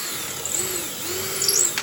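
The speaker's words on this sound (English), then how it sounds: "and then I'll pilot drill the hole" A pilot hole is drilled with a 3/16 inch bit, likely for mounting a flange with lag screws; a power drill whines steadily, its pitch rising and dipping under load for nearly two seconds.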